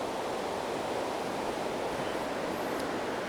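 Steady, dense rush of white water in a river beside trees, a continuous broadband roar of churning, bubbling current holding level throughout with no voices.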